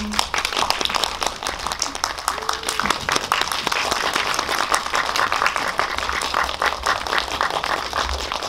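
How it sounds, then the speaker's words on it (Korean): An indie cinema audience at a screening talk applauds the director and actors as they are invited up, steady close applause running unbroken throughout with a few louder claps standing out. "영화를 만드신 감독님, 배우분들 자리에 모실게요. 박수 쳐주세요."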